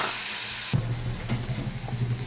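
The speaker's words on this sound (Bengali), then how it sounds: "মশলাটাকে একটু ভালো করে কষিয়ে নিচ্ছি। হালকা করে একটু জলও দিয়ে দিলাম।" Chilli and turmeric spice masala for a snake gourd dish frying in a pan after a splash of water, a steady close sizzle that jumps up sharply partway through and keeps bubbling with small crackles.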